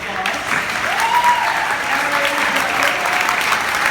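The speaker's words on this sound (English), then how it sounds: "Let's give him a big round of applause." Steady, loud applause from a large audience fills the whole stretch, continuous clapping without a break.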